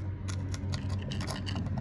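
Screws are backed out of a hardwired smoke detector, with a series of short, faint scratchy scraping strokes over a low steady hum, close and quiet.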